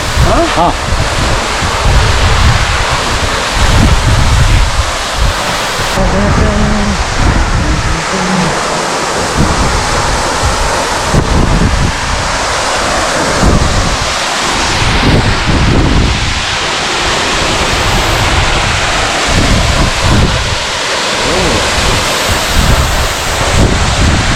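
Devkund waterfall in Raigad, Maharashtra, pours with a loud, steady rushing roar close by, mixed with gusty wind buffeting the microphone throughout.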